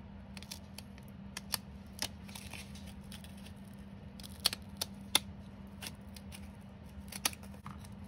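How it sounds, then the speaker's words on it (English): Decorative scissors snip along the folded edge of paper for a homemade doily, a run of sharp, close clicks and crunches spaced irregularly over a low steady hum. "Use decorative scissors to cut the edge."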